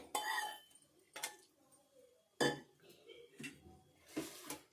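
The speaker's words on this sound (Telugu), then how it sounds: "ఈ కారంలో పోసుకొని కలుపుకోవడమే" A spoon clinks and scrapes in a bowl as chili powder is mixed for a lemon pickle, giving several separate clatters with quiet pauses between them, close and fairly soft.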